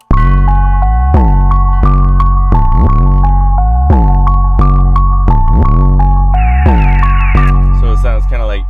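Simple piano melody with a pitch bend that drifts flat and sharp, giving a wobbly, eerie feel; each note rings out steadily at close range and full volume, played alone without voices.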